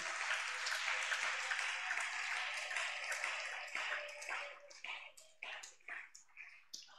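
Church congregation applauding to acclaim the Lord Jesus, a thick, loud wash of clapping that thins into scattered individual claps toward the end.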